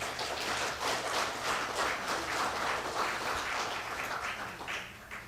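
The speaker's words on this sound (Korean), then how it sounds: "여러분 성원의 박수로 보내주시면 고맙겠습니다" Faint, distant audience applause at a Korean commemorative event honoring an LA chapter, a steady even rain of clapping from the crowd that fades slightly toward the end.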